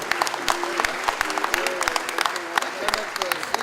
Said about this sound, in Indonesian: Sekali lagi kita bisa sambut dengan tepuk tangan yang luar biasa.